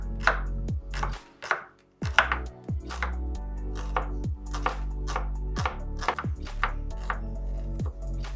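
A knife slices onions thinly lengthwise on a cutting board, a quick, close, irregular series of about a dozen sharp chopping thuds with brief pauses between.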